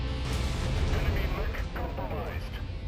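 A PPC energy weapon in the mech combat game MechWarrior 5 fires in repeated heavy, booming blasts with crackling tails, loud and close over a rumbling battle backdrop.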